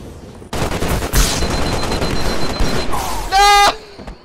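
Grenade blasts in the Halo PC shooter, loud and dense, with a sharp burst just after the start and a booming peak near the end, in a steady wash of game noise.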